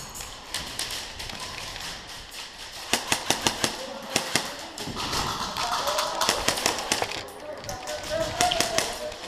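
Elite Force M4 airsoft rifles snap off in quick bursts of sharp taps during an indoor team deathmatch at APC Denver, several short volleys at moderate distance mixed with room noise and a voice.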